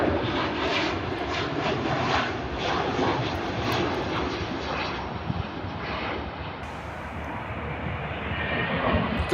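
Airplane landing at Paine Field near Seattle: a broad, continuous engine roar and rushing jet noise, loud and sustained for the whole stretch, with no talking.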